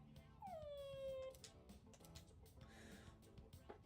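A dog in the Persona 3 video game lets out a single drawn-out whimpering whine that slides downward, followed by faint game background noise at low volume.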